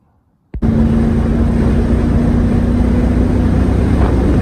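Triumph Stag car starting to move after a moment of quiet, then a loud, steady engine drone and road rumble carrying on without a break.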